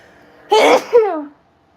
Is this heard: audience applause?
no